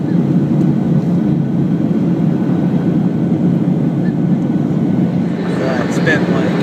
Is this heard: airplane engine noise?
yes